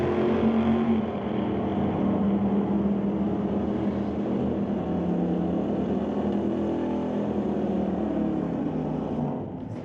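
Drag race cars, a Monte Carlo against a Chevy II, roar down the strip in a sustained, loud engine drone that holds steady for most of the run and then fades at the end.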